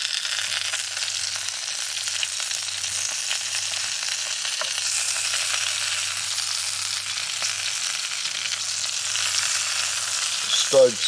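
Sausages fry on a gas camping stove outdoors, a steady, fairly loud hissing sizzle with faint crackles running throughout, no one speaking.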